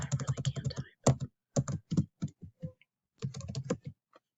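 Quick bursts of keystrokes on a computer keyboard, close and clear, in several short clusters separated by brief silent pauses.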